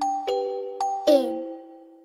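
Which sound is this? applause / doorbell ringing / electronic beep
doorbell ringing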